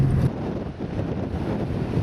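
Steady roaring wind buffets the microphone outdoors on a headland near Port Lincoln, South Australia, a constant low rumble with gusty swells throughout and no voices.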